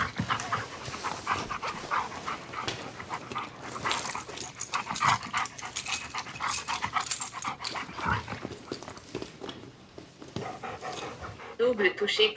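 A dog panting rapidly and shuffling about at close range, with breathy rhythmic huffs, faint whimpers and movement noise; a person's voice speaks at times over it.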